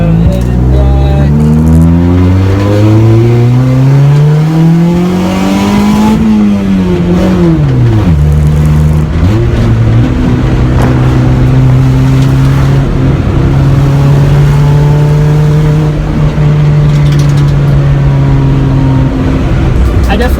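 Honda car fitted with a D15B7 ECU on a test drive, engine note rising through repeated revs and gear changes, then settling into a steady cruising drone, loud and close from inside the cabin.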